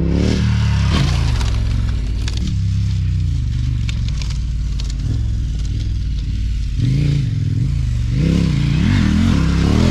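Dirt motorcycle fitted with Mitas E07 tyres riding a motocross track, engine loud and close, revving and dropping through corners with continuous rough throttle changes and no talk.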